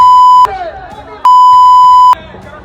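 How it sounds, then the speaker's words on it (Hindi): Loud censorship beeps in a Hindi news broadcast cover abusive words, two long sustained tones, each about a second long, with brief gaps of muffled voices and crowd noise between them. "इसमें जो गाली दी है वो हम आपको सुना नहीं सकते क्योंकि हमने यहाँ बीप साउंड"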